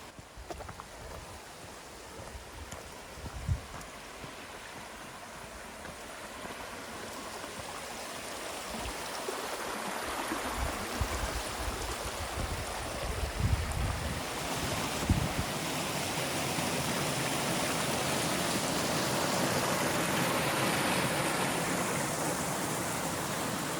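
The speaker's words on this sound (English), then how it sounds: "let's go and find this waterfall" A waterfall in Cornwall gives off a steady broadband rush of falling water, growing slightly louder and fuller as it draws nearer, with occasional low wind buffeting against the microphone and no voices.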